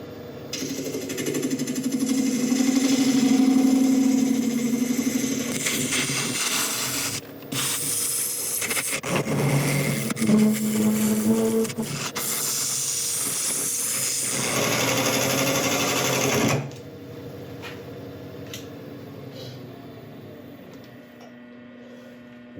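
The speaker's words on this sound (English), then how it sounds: "I'm just going to switch over to a carbide and start turning it down a little bit further." A carbide-tipped tool shaves a redwood cone and resin blank spinning on a wood lathe, giving a loud continuous whir and scraping with brief pauses, then the motor winds down near the end.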